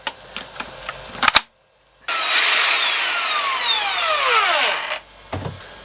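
A Makita power tool spins up abruptly after a brief silence, a loud steady whine with descending tones as it winds down, preceded and followed by a few handling knocks.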